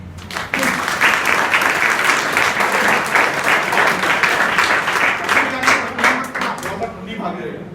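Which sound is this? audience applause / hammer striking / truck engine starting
audience applause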